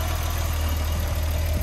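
A BMW E30 325i cabriolet's engine idles steadily in a clean, freshly serviced engine bay, a close, even low rumble running throughout with no voices.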